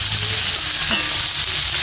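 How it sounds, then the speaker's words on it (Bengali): Carrots, radish and capsicum frying in a pan give a loud, continuous hiss of sizzling oil, close up and steady over the whole short stretch, with a faint stir partway through. "ক্যাপসিকামটা দিয়ে আবার ভাজবো, ভালোভাবে নেড়ে ছেড়ে নেব।"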